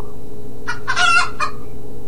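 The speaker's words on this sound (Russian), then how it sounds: "курочка" A few short, bright electronic chicken clucks come in a quick burst over a steady low hum, with no talking.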